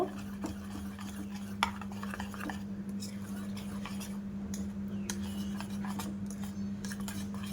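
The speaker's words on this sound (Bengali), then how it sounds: "ধোসার ব্যাটারের মধ্যে দিয়ে দিয়েছি, দিয়ে ভালো করে মিশিয়ে নেব।" Dosa batter with added potato being mixed in a bowl, giving a continuous soft scraping and sloshing stir with scattered light clicks of the spoon, steady and close under a low constant hum.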